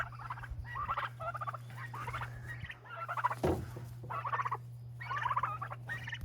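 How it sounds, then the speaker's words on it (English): Turkeys in a coop gobble and chatter in repeated bursts at close range, the calls rising and falling with brief pauses between them. "Turkeys are so fun."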